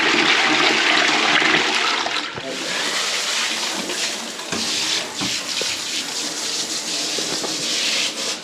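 A toilet cistern fills after the water supply is turned back on, with steady rushing and hissing water that is loud at first and then settles into a continuous trickle and gurgle.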